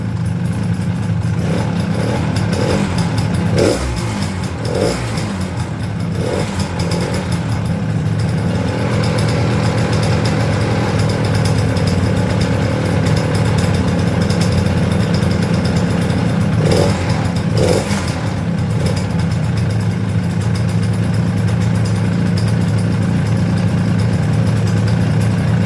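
A 1976 Harley-Davidson SS250 motorcycle engine runs steadily outdoors on a cold morning, a continuous close, loud two-stroke drone with small throttle blips and no talking.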